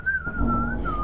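A sustained whistle tone in the Lethal Company video game, holding steady with slight pitch wavers and a brief break, loud and close over a low background rumble.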